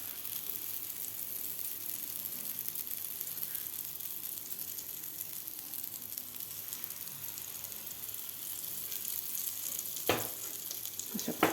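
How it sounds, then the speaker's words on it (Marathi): Besan chila batter frying in a pan over medium gas, a steady soft sizzle and crackle held at low volume throughout, with a couple of brief louder spatters near the end. "मीडियम गॅसवर व्यवस्थित खालची बाजू शेकून घ्यायची आहे आपल्याला."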